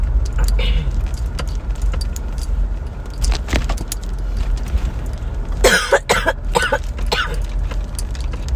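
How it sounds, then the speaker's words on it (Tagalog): Several rough coughs burst out close by, clustered near the end, over a steady low rumble of a moving vehicle travelling through Quezon province, with occasional jingling. "Grabe ubo ko."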